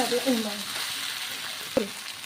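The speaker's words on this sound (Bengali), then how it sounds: "এখন ভালো করে নেড়ে দেবো।" Boiled jackfruit coated in spices sizzles in a pan as it is stirred, making a continuous frying hiss with scraping stirs and a short voice near the start.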